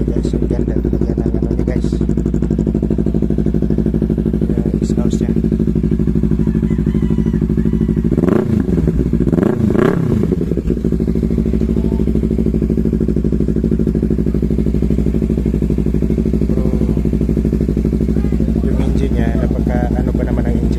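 A Kawasaki Z300 motorcycle engine idles steadily and loud at close range, with a mechanical clatter and a brief burst of revving in the middle and a voice talking over it.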